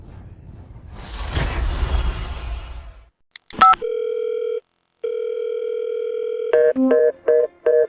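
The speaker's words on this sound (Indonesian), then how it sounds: "Aku telepon dia sekarang." Phone call ringback tones after a short burst of noisy rustle: a steady electronic tone sounds in two long stretches, then several short beeps follow, with no talking.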